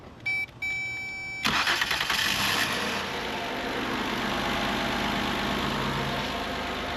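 A car's engine is cranked and catches after a do-it-yourself repair, with a few chime beeps followed by a loud start that settles into a steady idle close by.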